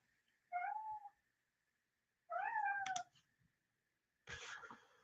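A cat meows three times indoors, each call loud and close with long pauses between, over a faint steady tone in the background.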